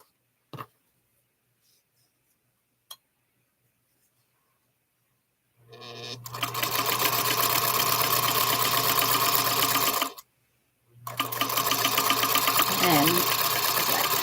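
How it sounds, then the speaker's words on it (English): A sewing machine chain-sews quilt pieces, whirring in a steady rapid buzz for several seconds, pausing briefly, then running again; a couple of faint clicks come before it starts. "maybe I'll just keep chain sewing"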